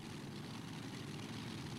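A heavy pulling tractor powered by Chevy 510 engines roars continuously in an arena at a tractor pulling event in Herning, a dense, faint-sounding distant drone with no talk.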